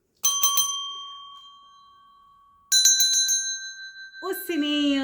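A bright notification bell chime rings in quick clusters of several strikes with sustained ringing tones, repeated twice, then a rising sparkly jingle at the end, clean and close with no other sound.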